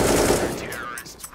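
Gunfire in the video game Counter-Strike during a professional match on the Overpass map, a loud rapid burst of automatic rifle fire that fades out within about a second.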